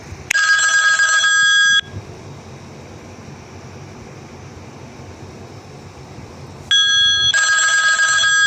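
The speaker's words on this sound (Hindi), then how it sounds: "name ringtone" A phone plays a custom name ringtone: a bright, sustained electronic ringing burst, then a quiet gap of several seconds, then the ringing returns at the same level.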